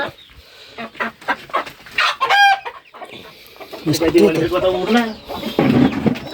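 Village chickens cluck close by in short bursts mixed with a brief crowing call, while people talk over and between the sounds.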